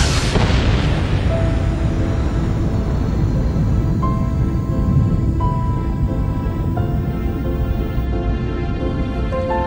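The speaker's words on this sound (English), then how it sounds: "this fireball exploded." A booming explosion effect for a primordial fireball, with a sharp loud burst at the start that spreads into a long rumbling roar and sustained rolling wash.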